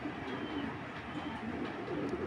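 A cream bar racer pigeon hen softly cooing, faint low coos repeating over a quiet background hum.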